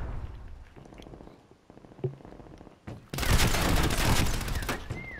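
Gunfire at a player in a Prop Hunt video game, a loud sustained burst of rapid shots after quieter game noise, with a voice talking briefly in the background.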